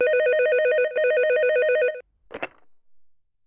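An electronic telephone rings loudly and close in a warbling trill, two bursts in a row, then goes silent before a short murmur of speech.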